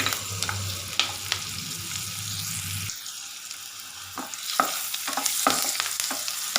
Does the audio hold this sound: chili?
yes